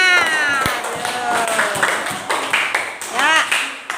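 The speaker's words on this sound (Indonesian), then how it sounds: "Beri tepuk tangan," Scattered hand claps from a classroom of students cheering on two classmates during a blood-circulation demonstration, sharp uneven slaps mixed with a teacher's and children's voices throughout.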